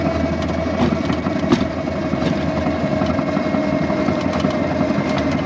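A motorcycle on the move gives a steady, loud engine drone with a high whining note from the motor sprocket, a continuous close hum with no talk over it.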